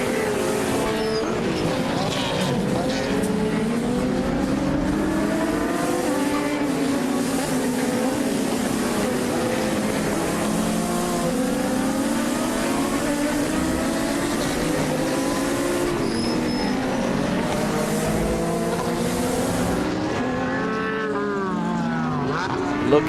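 BMW M6 and other endurance race cars roaring around the Most circuit, a continuous loud mix of engines rising and falling as they rev through gears, with a commentator talking over the track noise.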